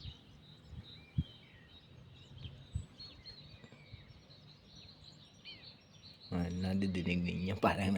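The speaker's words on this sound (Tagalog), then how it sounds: "Masaya na yung mga ibon kasi magkakadahon na yung mga puno." Morning birdsong among trees in Szolnok, Hungary: faint scattered chirps and tweets at a distance over quiet background, with a few knocks, then a voice starts talking near the end.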